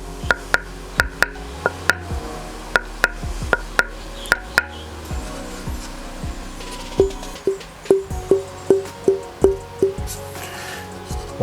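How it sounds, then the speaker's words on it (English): Knuckles tap a Fan Zhendong ALC Gold Tag table tennis racket in quick close knocks, first a sharp brighter series, then a lower, duller run of taps after a short pause. "I will also just do a quick knocking to hear how it actually sounds like"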